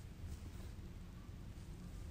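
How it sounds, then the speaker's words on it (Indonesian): Heavy rain pours steadily through a violent storm, a dense, continuous low rumble and hiss with thunder blended in, constant in level throughout and with no voices. "Hujan begitu deras, petir menyambar-nyambar."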